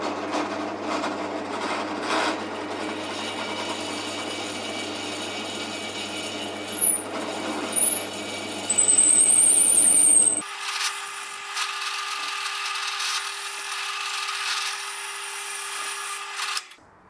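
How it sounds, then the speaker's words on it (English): A drill grinds through a wooden guitar neck block, with rough rubbing and brief high squeals from the bit, then drops to a lighter steady whine as the motor runs on alone before stopping. "And now I can drill those holes all the way through to the other side."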